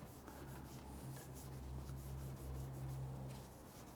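Polishing compound rubbed by hand onto dull aluminum Mercedes window trim, a faint continuous back-and-forth rubbing hiss over a low steady hum, with no talk.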